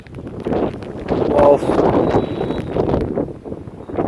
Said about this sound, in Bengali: হালকা হালকা বৃষ্টি পড়তেছে এখানে প্রচুর বাতাস